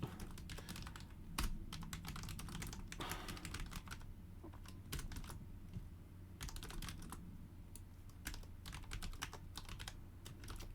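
Steady typing on a computer keyboard at a desk, with dense clusters of key clicks and brief pauses running throughout, close and moderately loud, with no speech.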